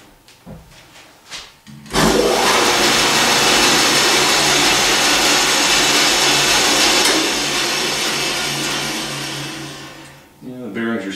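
Workshop machine switched on after bearing work, its motor and spinning bearings whirring loudly and steadily for several seconds before winding down, with brief handling sounds before and after.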